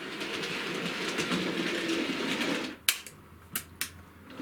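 A small model train runs along its track with a steady rolling rumble, followed by a few sharp clicks as it passes joints or points.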